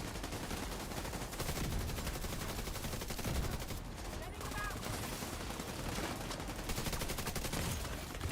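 Rapid gunshots in The Division 2 video game, dense automatic bursts firing almost without pause, loud and close, with occasional voices over the shooting.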